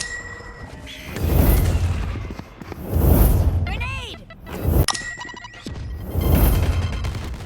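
A grenade thrown during a match of Valorant, several booming blasts and whooshes rising and fading in waves, loud game effects under excited commentary voices.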